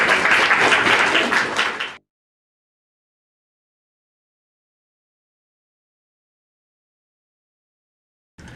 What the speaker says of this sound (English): I think we should clap for her.